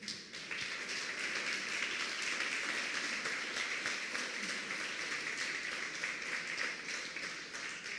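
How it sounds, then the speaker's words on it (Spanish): Steady applause from a church congregation during a sermon, an even, sustained wash of many hands clapping at moderate distance throughout. "Dele un aplauso al Señor."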